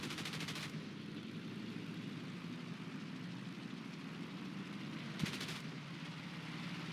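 Aircraft guns firing in War Thunder: two short, fast bursts of rattling gunfire, one at the start and one near the end, over a steady quiet engine drone.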